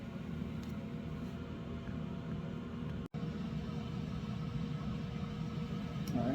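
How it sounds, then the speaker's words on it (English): Exhaust fan noise drones steadily nearby at a low level during lead jig pouring, a constant motor-like hum and hiss with one brief cut-out midway, no talking. "sorry about the exhaust noise"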